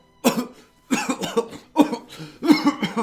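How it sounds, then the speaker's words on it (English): A person coughs repeatedly in four short fits, each several rough hacks in quick succession, close up with brief silences between. "coughing a little bit, almost like she took in too much dust"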